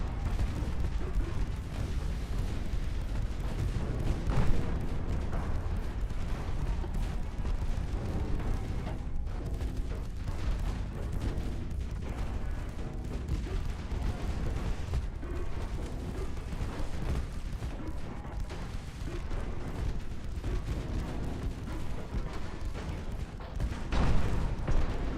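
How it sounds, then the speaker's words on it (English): Dense, continuous booming of naval gunfire and a torpedo detonation in Ultimate Admiral Dreadnoughts, a loud rumbling wash of overlapping explosions with swells near the middle and end. "There we go, torpedo detonation."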